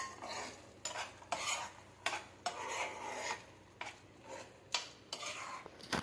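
A spoon stirs fried paneer into palak gravy in a pan, with repeated scraping and rubbing strokes in a steady rhythm, close and moderately loud, with no talking.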